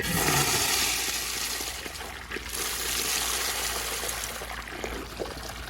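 A Universal Rundle Colburn urinal flushes with a loud, close rush of water that pours steadily for several seconds before easing slightly.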